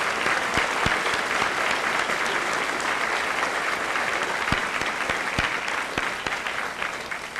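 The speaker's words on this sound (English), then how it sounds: "Let's give these students a nice round of applause" A high school crowd at a senior assembly applauds steadily and loudly for honor-list students, a thick continuous patter with a few sharper individual claps standing out.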